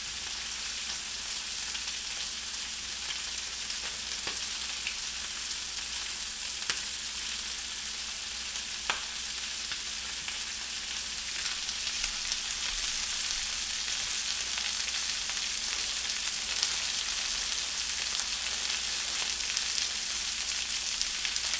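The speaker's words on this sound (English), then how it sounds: "as this chicken is sizzling away" Steady, close sizzling of chicken frying in a pan, a continuous crackly hiss with a few sharper pops, no voices.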